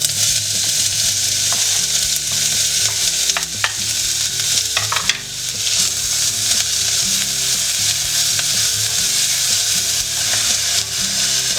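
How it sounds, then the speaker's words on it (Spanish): Chopped onion fries in hot oil over high heat for a vegetable soup, giving a loud, steady close-up sizzle with occasional stirring clicks and scrapes. No voices are heard. "Ponemos un poco de aceite a calentar en un recipiente y cuando esté caliente ponemos la cebolla dentro"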